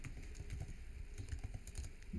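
Rapid soft clicks from typing on a computer keyboard, a close, quiet, irregular patter of keystrokes over low background hum, with no voices.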